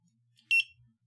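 A single short, bright electronic confirmation beep from an RF bridge smart switch controller, close and clear against near silence, followed by a soft low thud.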